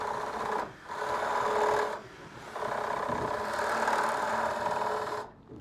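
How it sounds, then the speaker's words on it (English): A power tool whirs steadily while enlarging a screw hole so a screw head will fit, running in sustained bursts with brief pauses between them, close and moderately loud. "I'm going to have to probably modify this hole just a little bit so I can get the head of the screw to fit in there"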